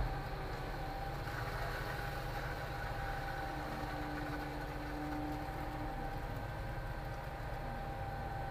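Concrete pump engine running at a house foundation pour, a steady droning rumble with a faint whine holding constant throughout, heard at moderate distance with no talking.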